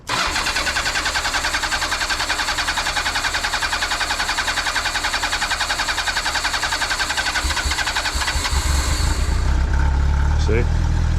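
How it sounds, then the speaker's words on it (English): A Honda Nighthawk 750 motorcycle engine cranks steadily for several seconds with a rapid rhythmic starter chug, then fires and catches into a deeper running idle, loud and close. "it's going to crank for a while before it fires"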